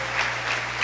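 Congregation clapping in a church service, a short burst of dense applause with a steady low hum underneath.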